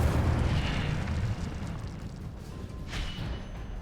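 The Incendio fire spell goes off in Hogwarts Legacy with a loud whooshing burst of flame that fades into a crackling rumble, followed by a second, softer flare.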